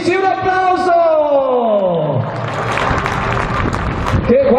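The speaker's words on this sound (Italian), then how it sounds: "un applauso!" Applause from the audience at the 20th 'Viva Viva la Befana' festival in Surbo, Lecce. It comes as a loud, dense wash of clapping and crowd noise after a few seconds of falling musical tones and voice.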